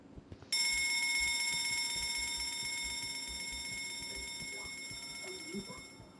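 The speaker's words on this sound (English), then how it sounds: "I'm gonna ring the bell." A bell in the video game Escape the Backrooms rings out with a sudden bright, sustained metallic tone that slowly decays, with faint game sounds beneath.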